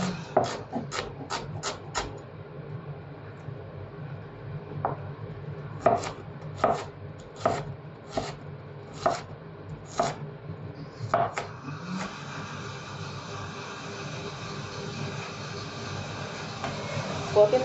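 A knife chops onions on a cutting board in rapid bursts of sharp taps, separated by pauses, close and fairly quiet against a faint background hum.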